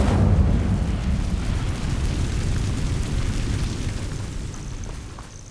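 The Incendio fire spell cast in Hogwarts Legacy, a heavy whooshing burst of flame that hits hard at once and then rumbles and fades steadily over several seconds, with no talking.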